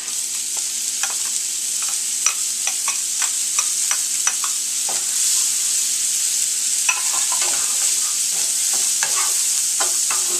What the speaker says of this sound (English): We're going to add about 2 tablespoons of butter to the pan, along with our onions and our garlic.